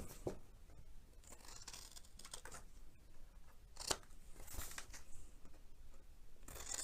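Scissors snip through paper for a handmade Stampin' Up card, a faint run of soft crisp cuts and rustles close by, with no talking.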